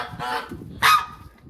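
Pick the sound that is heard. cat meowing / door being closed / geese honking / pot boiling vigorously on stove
geese honking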